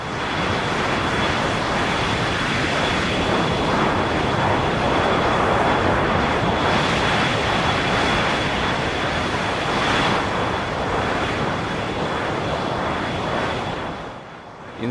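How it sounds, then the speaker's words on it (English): Synthesized airplane idle engine effect, a steady broadband whooshing roar with a thin high whine running throughout, continuous and loud without pauses and easing off slightly at the end. "In some sense, this is creating the idle sound you hear at airports"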